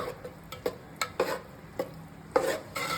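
Curd rice being mixed by hand or spoon in a vessel, giving soft, irregular wet scraping and patting strokes, a handful of brief clicks spread over a few seconds, fairly quiet with no talking.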